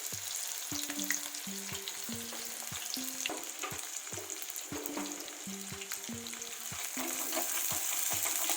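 Bay leaf, cloves and onions fry in hot oil in a kadai for chicken curry, a steady close sizzle under repeated rhythmic stirring and scraping strokes.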